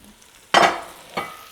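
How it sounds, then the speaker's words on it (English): Leeks in melted butter are stirred in a pan for leek and potato soup, giving two short bursts of sizzling and scraping, the first loud and the second fainter, over a quiet background. "Give them a stir so that everything is coated with butter."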